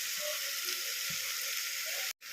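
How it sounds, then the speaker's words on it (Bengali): Fried potatoes drop into hot masala in a pan, a steady close sizzle with soft bubbling and a brief muffled thud, ending in a sudden moment of silence. "তো এই মশলার মধ্যে আমি দিয়ে দিলাম ভেজে রাখা আলু"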